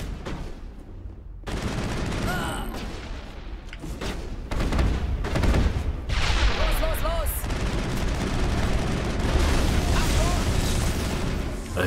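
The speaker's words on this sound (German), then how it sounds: "Hier, friss nochmal eine Granate." Grenade blasts and gunfire during a gangster boss fight in Mass Effect, a dense, loud barrage of bursts and booms with crackling shots and voices mixed in.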